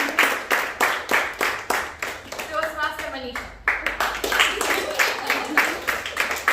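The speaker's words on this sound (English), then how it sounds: "Keep clapping, keep clapping." Audience at a Toastmasters club meeting clapping steadily and rhythmically in a dense, even stream, with a voice briefly speaking over the middle before the clapping picks back up.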